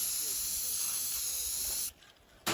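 Spray paint can hissing in a continuous, close, loud burst for hydro-dipping, cutting off near the end with a short quiet gap before a brief final spurt.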